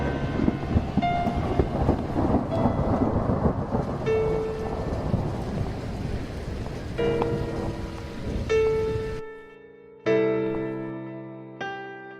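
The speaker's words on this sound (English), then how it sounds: "I think there's a big storm coming." A storm in the video game The Cat Lady: dense rumbling thunder and steady rain wash over several seconds, then drop away into quiet broken by sharp tonal sound effects.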